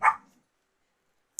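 A single short dog bark, close and fairly loud at the very start, followed by near silence and a faint tiny click.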